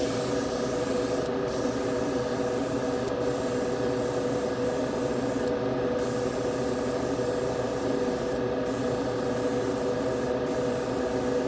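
Steady, unbroken hiss of an airbrush spraying paint onto a 1956 Chevy Gasser, close and even throughout with only brief faint dips in the high hiss.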